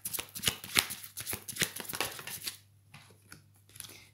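Oracle cards are shuffled in a run of quick, crisp riffling bursts and papery flutters, close and fairly soft, thinning to a few light taps near the end with no talking.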